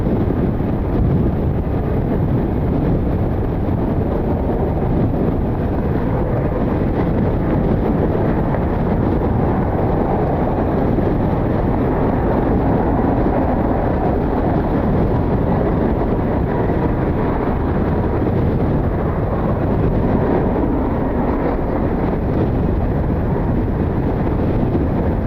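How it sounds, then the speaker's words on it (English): Strong wind gusting at Cleveland Hopkins airport, buffeting the microphone in a loud, continuous low roar that barely lets up for the whole stretch. "You got to guess where the wind gust is coming from."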